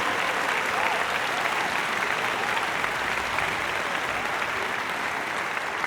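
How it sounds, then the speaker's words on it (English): An audience at the Baxter Concert Hall applauds a university symphony orchestra's showcase concert, thick even clapping held steadily throughout. "please give them a huge round of applause for the wonderful evening's entertainment"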